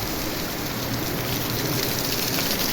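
Heavy downpour, heard as a dense, steady hiss of rain that holds at an even level throughout, with no voices.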